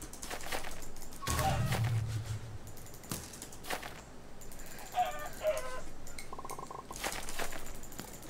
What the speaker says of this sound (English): Okay, we have another chicken.